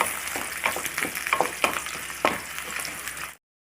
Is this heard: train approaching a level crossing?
no